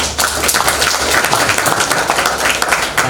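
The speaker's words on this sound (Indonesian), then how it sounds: "Tepuk tangan untuk kita semua yuk" Steady applause from an Indonesian campus field-lecture audience, dense continuous clapping filling the whole stretch at a fairly loud, even level.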